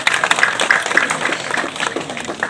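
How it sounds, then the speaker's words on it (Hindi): Applause from an audience welcoming a guest at a Congress party village campaign gathering in Sanjharpur, steady dense clapping for the full stretch, close and loud. "तालियों के साथ उनका स्वागत कीजिए"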